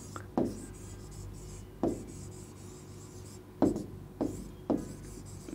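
Chalk or marker writing on a classroom board, several short scratchy strokes in separate bursts with quiet pauses between them.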